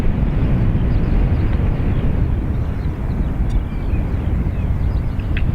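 Twin jet engines of a Ryanair airliner spool up together for takeoff on Dublin Airport's runway 28 right, a loud, steady broadband roar that holds constant throughout with a faint rising whine.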